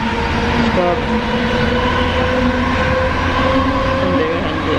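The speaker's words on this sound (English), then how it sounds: "so we're on the air train, headed to the airport." Steady rumble and rolling rail noise ride through an airport air train car, with a sustained whine and faint tonal squeals over a constant, loud interior background.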